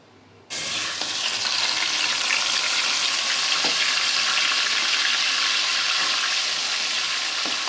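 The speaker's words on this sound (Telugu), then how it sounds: "ఇప్పుడు ఆనియన్స్ పేస్ట్ వేసేస్తున్నాను" Onion paste hitting hot oil for a fish gravy bursts into a loud, steady sizzle that starts abruptly and holds close and constant, with a faint scrape partway through and no voices.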